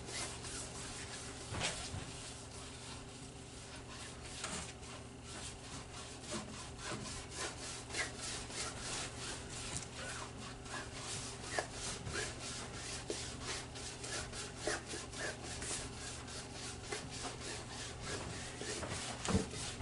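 High gloss varnish being scrubbed by brush onto an acrylic pour painting on canvas, a steady, close, continuous rubbing and scraping with dense short strokes throughout, no talk.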